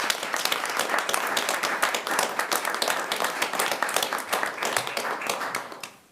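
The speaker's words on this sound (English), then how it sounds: "a round of applause." An audience at a city council meeting in Escalon gives the police department a warm round of applause, with many hands clapping in a dense, steady patter that fades out at the end.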